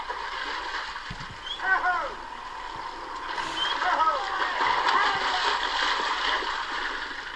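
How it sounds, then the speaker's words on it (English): Bullocks swim and splash through a sea loch, with continuous churning water and occasional louder splashes over a steady outdoor wash, fairly close throughout. "the drovers make quite a splash"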